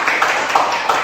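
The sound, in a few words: audience applauding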